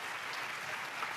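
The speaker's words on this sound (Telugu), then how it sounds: "చప్పట్లు కొడుతూ స్తోత్రాలు." A church congregation claps in praise during a Telugu sermon on the Lord's Supper, a brief, even wash of hands that stays moderately loud from start to finish.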